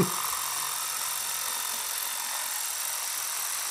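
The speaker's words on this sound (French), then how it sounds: "Il y a une scie sauteuse, effectivement." A steady, high buzzing whine of an electric jigsaw cutting wood, running continuously at constant strength with no pauses.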